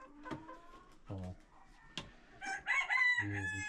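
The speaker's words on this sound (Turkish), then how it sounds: "Şurada bir tane var, o da çok güzel tavuk." Chickens cluck and a rooster crows in a farmyard flock where new young pullets are being mixed in, with short, close calls in bursts and a louder crow near the end.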